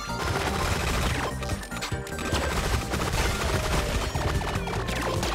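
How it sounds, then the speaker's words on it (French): Rapid, loud gunfire in Relic Hunters Zero, a near-continuous barrage of shots and crashing impacts against the scenery with dense game sound behind. "je tire sur le décor"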